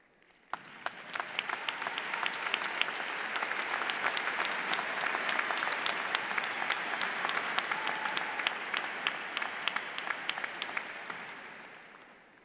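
Sustained applause at a university summer commencement for standing honors program graduates, crowd clapping swelling in and holding steady before tapering off, distinct sharp claps popping out over the large, somewhat distant mass.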